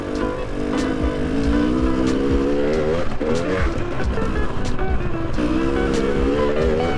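An Aprilia Tuareg motorcycle engine revs loudly and up close on an enduro training ride, its pitch rising and falling unevenly as the throttle is held inconsistently.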